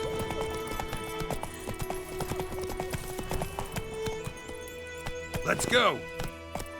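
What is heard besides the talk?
horse Roach trotting, from video game The Witcher 3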